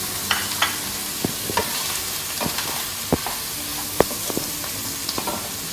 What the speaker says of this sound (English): I'm going to add the mushrooms to the pan